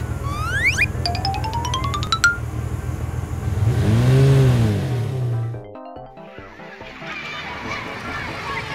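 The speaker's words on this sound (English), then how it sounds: "delivery truck." A delivery truck engine revs up and pulls away, its rising mechanical rumble set among other brief street-vehicle sound effects, with whistling tones before and a quieter rolling tail after.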